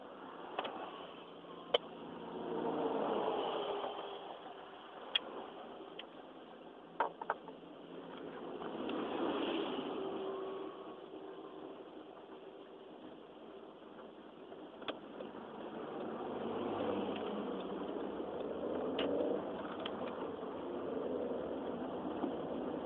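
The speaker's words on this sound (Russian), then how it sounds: "Машина довольно шумная" A steady engine hum inside a moving car, with a broad, continuous road and cabin rumble that swells and eases slightly throughout.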